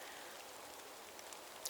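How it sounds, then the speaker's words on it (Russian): Steady rain falls outdoors near an abandoned psychiatric ward, a soft continuous hiss with a few brief drips standing out near the end, fairly faint and with no voices. "потому что идет дождь"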